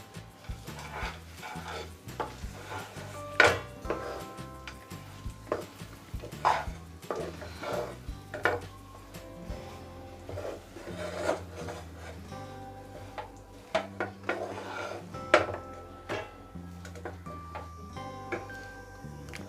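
A ladle stirring peanut burfi mixture in a pan: repeated soft scraping and knocking strokes at an uneven rhythm, with faint tonal music in the background.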